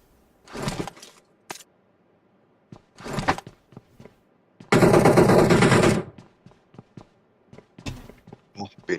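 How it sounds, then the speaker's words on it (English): Gunfire in the battle royale shooter PUBG during a Warzone cup match: scattered bursts and single shots, then a long sustained loud automatic volley, followed by more sporadic shots, with talk mixed in. "Oh, beautiful shots there from Clutcher."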